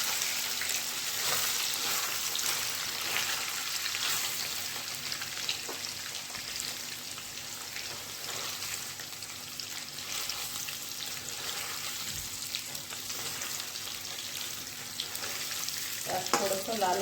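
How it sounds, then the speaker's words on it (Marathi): Pieces of paneer frying in hot oil for a paneer bhaji, a continuous crackling sizzle held steady at moderate level with faint stirring scrapes throughout. "आता आपलं तेल गरम झालेलं आहे, आपण पनीर तळून घेऊया"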